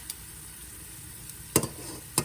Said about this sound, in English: that liquid is gonna help cook those stems, like just kind of boil them a little bit